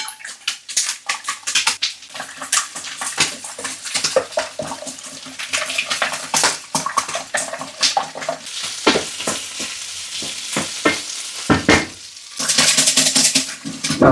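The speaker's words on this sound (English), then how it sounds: "we're going to whisk the eggs, because we don't want any white bits" Eggs are whisked in a bowl, giving a rapid, continuous run of close scraping and tapping strokes, loud and busy throughout, with a short, splashier burst near the end.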